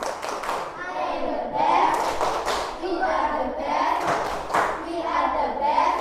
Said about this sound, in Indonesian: Sekarang tepuk the best.